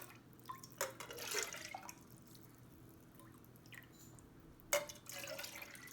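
Broth poured into a can, with soft trickling and dripping liquid in short bursts, faint and close, broken by brief pauses in a quiet kitchen.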